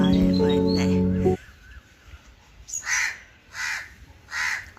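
Crows cawing near a brown-winged, red-eyed bird: three loud, evenly spaced caws follow a brief low hum, close and clear with no talk.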